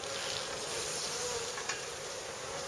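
Honeybees buzz in a steady, dense hum after being smoked, a continuous close swarm drone with occasional louder passes near the microphone.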